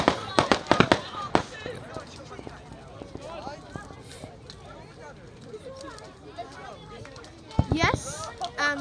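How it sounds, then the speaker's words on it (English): Fireworks going off at a bonfire night at a rugby club, with a rapid cluster of sharp cracks and bangs at the start and another burst near the end, separated by distant pops under crowd chatter and nearby voices. "there's fireworks over there, as you can see."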